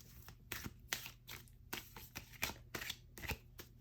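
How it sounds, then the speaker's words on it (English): A deck of tarot and oracle cards is shuffled by hand close up, giving faint, quick riffling and flicking bursts in an irregular rhythm. "Gonna shuffle one more time."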